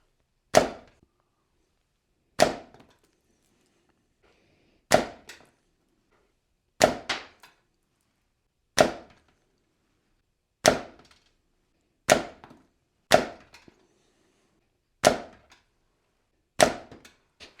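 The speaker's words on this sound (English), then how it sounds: "So let's see if the speed has changed at all. Measuring in feet per second again. We'll do 10 shots." Ten slingshot shots fired with Omega .4/.5 latex bands, each a sharp, loud snap with a short decay, spaced about two seconds apart in otherwise silent surroundings.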